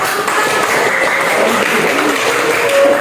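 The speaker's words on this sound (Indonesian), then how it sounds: "Berikan aplaus untuk" Audience at a discussion session breaks into steady, fairly loud applause, dense clapping sustained throughout with slight swells near the end.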